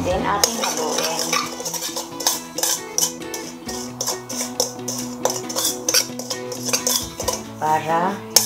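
Roast chicken ingredients being mixed in a bowl give a busy, continuous clatter of utensils scraping and clinking against the dish. The sound is close and fairly loud, with a steady tonal hum underneath.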